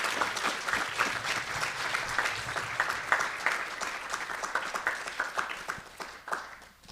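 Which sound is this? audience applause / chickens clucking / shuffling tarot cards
audience applause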